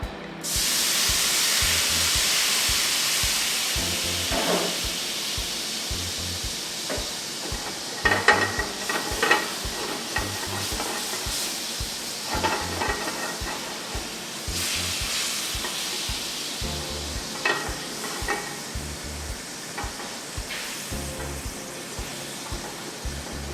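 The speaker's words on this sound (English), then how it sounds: "I like to steam it off with a little wine as opposed to flooding the bottom of the pan." Sautéed chicken sizzling in a pan as wine is added to deglaze, a loud continuous hiss and spray of steam with stirring scrapes and crackles throughout, no voices.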